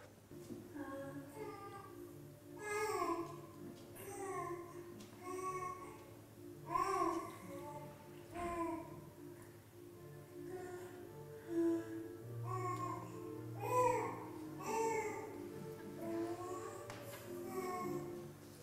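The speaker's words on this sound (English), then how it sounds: "10-week-old New Zealander is lecturing her mother, and I mean lecturing" A 10-week-old infant girl babbles at length to her mother, a long run of soft cooing and vocal phrases with short pauses, faint and intimate, with occasional low murmured responses from the adult.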